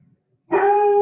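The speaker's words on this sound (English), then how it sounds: "that is my dog Parker barking in the background" A dog barks in one sustained, loud, tonal yelp or howl that starts abruptly midway through and holds steady, close to the microphone, with no talking over it.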